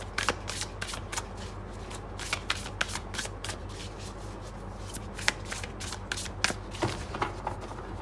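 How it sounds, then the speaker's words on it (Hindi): Tarot cards are shuffled continuously for about eight seconds, a dense run of quick papery riffles and flicks close up, with no one talking. "एंड टैरो की शफल कर लेते हैं साथ में ही"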